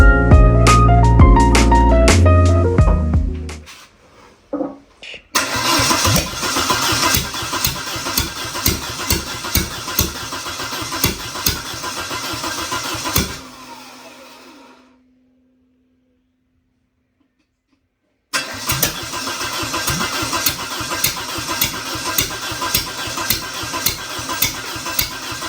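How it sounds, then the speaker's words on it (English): An engine sitting on a garage floor roars loudly after a brief cranking burst. It runs rough with rhythmic thumps, cuts out into silence for a few seconds, then fires up and runs again. "And if they touch, she fires off, huh? Or at least cranks."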